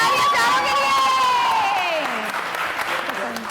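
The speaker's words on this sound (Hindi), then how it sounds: "चलिए बहुत सारी तालियां चारों के लिए।" A crowd applauds with dense, steady clapping, mixed with cheering and a sliding high tone that fades as the clapping continues.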